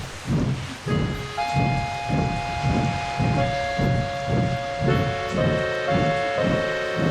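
Goods train pulling out in the video game Trainz, with a regular chuffing rhythm of about two beats per second and sustained whistle-like tones layered over it, loud and close with no talk.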